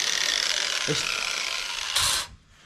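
A flap wheel grinding on a custom steel crossmember for an LS-swapped S10 pickup: a steady, loud, hissing whine runs throughout, briefly surges near the end and then cuts off, with one short vocal sound in the middle.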